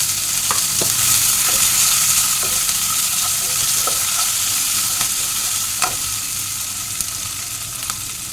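Ginger paste and green chilli fry in a hot pan with a steady, close sizzle, while a spoon scrapes and stirs in irregular taps throughout.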